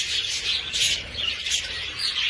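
Pet birds chirp together in an indoor bird room, a steady bright flutter of tweets and calls throughout, with no talk over it.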